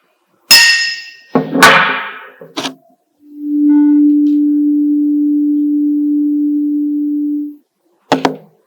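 A physics-class tuning fork gives a few sharp knocks and clinks, then is struck and rings as a pure, steady hum for about four seconds before stopping. One more tap follows at the end.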